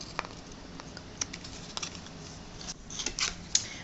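Soft, sparse snips and clicks of scissors cutting paper pieces for a matchbox shrine, quiet and close, spaced irregularly with a few sharper cuts near the end.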